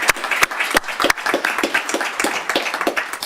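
A small audience at a technical college signing day claps, with loud individual hand claps standing out near the microphone over a softer, steady patter of applause from the rest of the room, and no talk over it.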